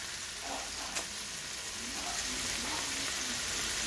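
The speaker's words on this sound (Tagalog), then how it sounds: "Try natin siya mag-saute yung mga ating mga sahog-sahog bago ilagay yung" Onions and other ingredients sauté in a frying pan, giving a soft, steady sizzle with faint stirring sounds throughout.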